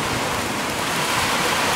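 Ocean waves roll and crash at sea in strong wind on a rowing crossing towards the Canary Islands, a dense, steady roar of surf and wind buffeting the microphone throughout, with no voices.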